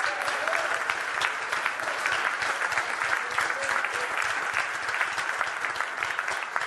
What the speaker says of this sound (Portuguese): Você pode aplaudir forte a Deus.